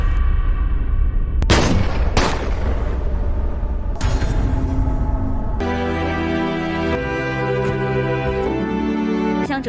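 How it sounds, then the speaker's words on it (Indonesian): Police fire on a man from several directions in a film scene: a few loud, sharp shots ring out close together, followed by booming impacts and a sustained, resonant musical drone. "ia pun langsung menarik pelatuknya tepat di saat para polisi menembak Li dari berbagai"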